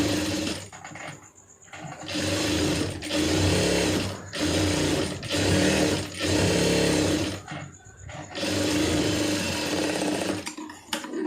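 A sewing machine stitches a blouse lining with fine, small stitches. Its close mechanical whirring runs in several bursts of one to two seconds, separated by brief pauses.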